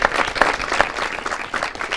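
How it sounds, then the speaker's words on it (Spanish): Studio audience applauding a guest on a television talk show, a short burst of close clapping with uneven claps, no voices. "un aplauso para Sol también"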